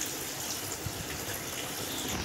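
Water pours steadily into a container, a quiet, continuous gushing wash with no talk over it.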